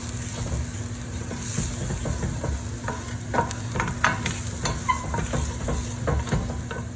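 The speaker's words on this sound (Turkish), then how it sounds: "Soğan ve köri bayağı birlikte kavruldular." Onion and curry sizzle steadily in a hot pot while a spoon stirs and scrapes, producing occasional clicks over the constant frying hiss.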